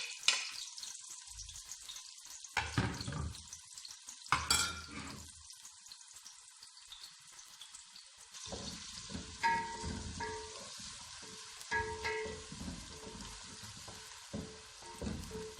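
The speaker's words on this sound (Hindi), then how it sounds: "प्याज को हल्का फ्राई करके गुलाबी से हो जाए" Onions lightly frying until pink sizzle and crackle in a hot pan, with bursts of louder hissing and occasional stirring scrapes, close up and without any speech.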